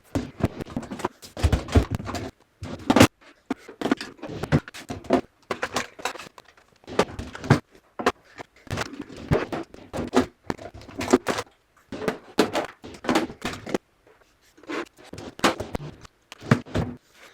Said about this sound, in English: I'm gonna do some clickety-clackety ASMR for you. I'm gonna put it all away